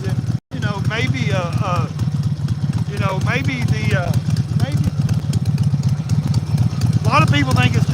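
A motorcycle engine runs steadily on the ride to a fair, a low continuous drone close by with people talking over it throughout.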